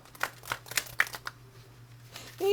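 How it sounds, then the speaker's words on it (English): Tarot cards are rifle shuffled in a few quick, close, crackling bursts of riffling paper, followed by a brief tone near the end. "These cards are not wanting to rifle shuffle for me."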